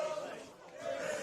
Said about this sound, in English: as the home crowd start to sing